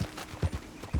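Horse hooves clip-clop in Red Dead Redemption 2, a few soft, distinct thuds at a walking pace, heard alone and fairly quiet.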